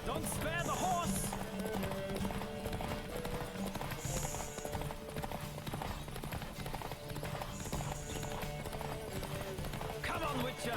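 A horse gallops in The Witcher 3 during a race, its quick clip-clop hoofbeats running steadily under game music and voices that talk throughout.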